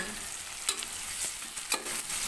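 Chopped onions fry for egg biryani, a faint steady sizzle broken by two or three sharp scraping stirs of a spoon against the pan, with no voices.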